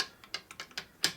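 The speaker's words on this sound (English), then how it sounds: "see that's that ratchet noise you're hearing?" The kicker ratchet on a Revtech Shovelhead Harley transmission clicks in a quick, uneven series of about seven sharp mechanical ticks. The clicks are close and crisp, with the last one loudest.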